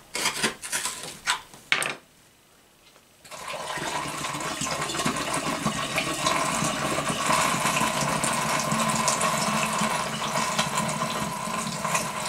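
Liquid pours steadily into a carton for homemade cranberry cider, a continuous splashing gush after a few brief knocks and a short pause, close and fairly loud.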